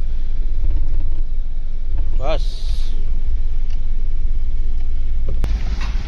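Heavy truck engine rumbling low and steady as the vehicle pulls away, close and continuous, with a brief high squeal partway and people talking over it.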